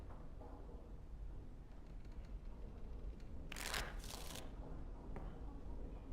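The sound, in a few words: shuffling cards in the video game Dragon Age: Origins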